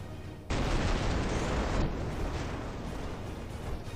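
Battleship guns fire in World of Warships as a sudden loud salvo, a broad heavy roar that breaks in after a quiet start and rumbles on, slowly fading over several seconds with no voices.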